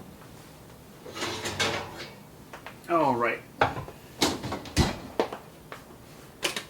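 A kitchen oven door pushed shut with a leg while cooking homemade tomato soup, giving a short clunk amid scattered kitchen clatter, with a person speaking briefly nearby.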